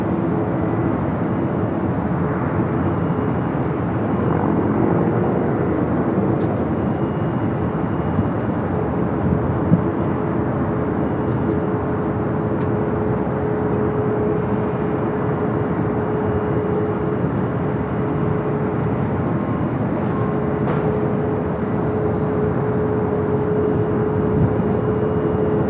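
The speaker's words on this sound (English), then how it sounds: "Lot Polish Airlines Flight 21 coming up from Warsaw" A LOT Polish Airlines Boeing 787-9 Dreamliner arriving at LAX from Warsaw produces a steady, fairly loud jet rumble with a faint sustained engine whine running through it, and no one talks.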